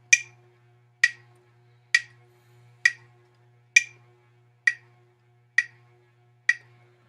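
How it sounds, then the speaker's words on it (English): A metronome set to 66 beats per minute ticks eight times at an even, steady pulse, each click sharp and close against a faint low hum, with no other sound. "it will sound like this when you set your metronome"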